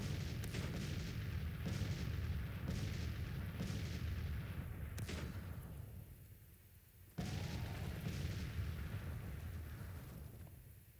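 Cannon artillery fire in the Civil War strategy game Grand Tactician, a series of repeated booming shots with rumbling decay, fairly loud and close, continuing across the whole stretch with no talk.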